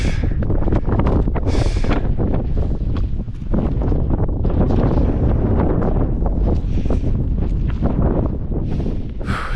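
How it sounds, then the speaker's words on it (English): Strong, roaring wind on the mountain Ama Dablam near Camp 1 buffets the microphone continuously with heavy gusty rumble and no talking. "It's getting really windy."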